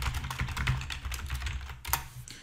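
Quick, steady keystrokes on a computer keyboard as a venue name is typed, close and clear with a brief pause near the end, no voices.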